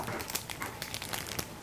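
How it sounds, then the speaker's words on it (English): A plastic bag crinkles and rustles up close as a small pastry tip is pushed into its corner, a continuous run of crisp crackles without speech. "take a little pastry tip and stick it in the corner of a plastic bag"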